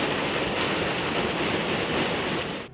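Water in a fish-rearing pond is aerated with oxygen, giving a dense, steady hissing rush like churning surf that stays loud and even before cutting off abruptly at the end, with no voices.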